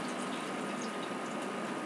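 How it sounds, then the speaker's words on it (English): Water drains steadily from cut-open cans of corn or green beans, a continuous close rushing splash that holds an even level throughout with no talking. "you also need to drain the water from the cans"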